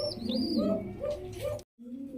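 Indian Lotan pigeons coo in low, rolling phrases while feeding their chicks, close and fairly loud, with a few thin higher chirps and one short break near the end.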